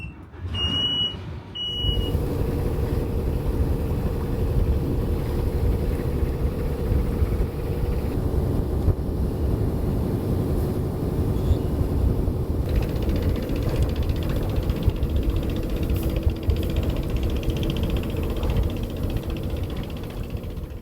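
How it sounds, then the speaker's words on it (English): A wooden boat's inboard engine starts and runs steadily, a loud, continuous low rumble with mechanical hum after a brief high beep at the start, no talking. "let's turn this engine on"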